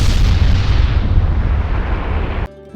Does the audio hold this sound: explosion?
yes